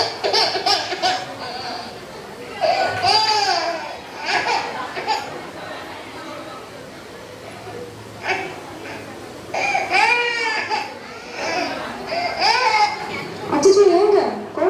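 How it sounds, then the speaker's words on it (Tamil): A baby crying in a household setting, with wailing bursts rising and falling over several seconds amid a loud, busy mix of overlapping voices and laughter. "ஏங்க குழந்தை கத்துறது தான் கேக்குது"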